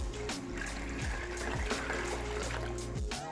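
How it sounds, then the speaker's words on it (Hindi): Water from a glass pours steadily into a pot of lentils for homemade haleem, a continuous trickling splash under a low hum from the kitchen. "8 गिलास में यहाँ पे पानी के डालने लगी।"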